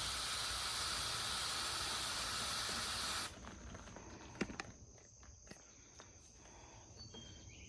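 A spray bottle set to mist sprays water over seeds for a garden planting; a steady broad hiss runs for about three seconds, then stops, leaving faint scattered clicks and handling sounds.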